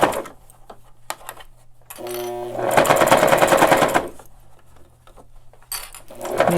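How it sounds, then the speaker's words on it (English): A sewing machine stitching a three-layer fabric face mask, a few short bursts then a sustained run of rapid, steady needle clatter, close and clear, with quieter gaps between. "Start down, remove my pin, start sewing a little bit, back stitch,"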